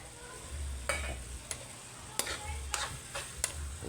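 Ground meat for sisig cooking in a pan gives a steady soft sizzle, with a handful of crisp scraping stirs at irregular intervals, close and fairly quiet, and no voices.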